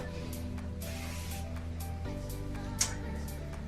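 A short hairspray burst hisses once near the end, over a steady low hum and faint ticking.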